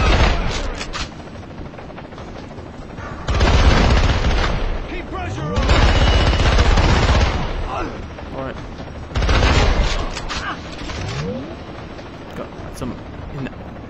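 Bursts of AK-47 gunfire in the vehicle combat game SpyHunter: Nowhere to Run, three loud sustained volleys separated by quieter gaps, with other game sounds between them.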